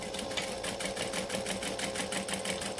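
A sewing machine stitches a leather-look batwing wallet in a steady, continuous run of rapid needle strokes, close and fairly loud, with no talking over it.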